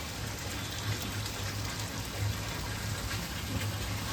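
Heavy rain falls with wind outdoors, a steady dense hiss of drops running unbroken through the whole stretch, with a low rumble underneath.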